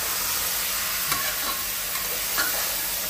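Mutton curry frying in oil is stirred in a pan, giving a continuous close sizzle broken by a few scraping strokes of the spoon, with no talking.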